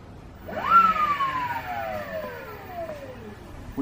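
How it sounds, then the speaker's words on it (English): A 50 kW electric supermoto motor spins up with a sharp rising whine, then winds down in a long falling tone as it slows, heard alone and fairly close. "Let's bring the dashboard up and see if we can spin the motor."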